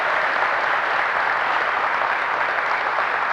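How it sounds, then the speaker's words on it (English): A crowd at a panel event in Compton gives a steady round of applause, continuous dense clapping at an even level throughout, with no voices over it. "Give her a round of applause as she comes."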